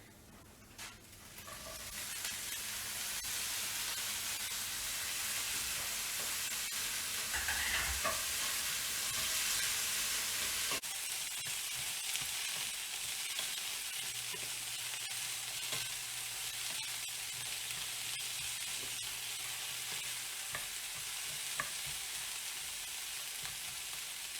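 Onions and vegetables sizzle steadily in a hot pan as they fry, with a loud, continuous hiss and occasional scraping from stirring, and no talk.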